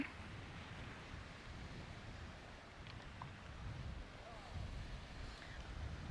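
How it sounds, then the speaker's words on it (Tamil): Small waves lapping on lake water at Waterton National Park in daytime, a soft continuous wash mixed with wind noise on the microphone, fairly faint and steady, with no talking. "தண்ணி அப்படியே அலை அடிக்குது சூப்பராக."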